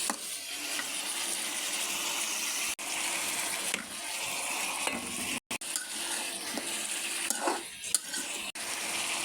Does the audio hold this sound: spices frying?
yes